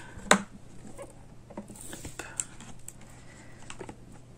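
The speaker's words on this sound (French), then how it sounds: "Alors, ouvrir la boîte." A cardboard box of Holo Taco nail polishes is opened up close: a sharp snap or tear at the start, then soft rustling, tapping and light scraping of packaging, fairly quiet.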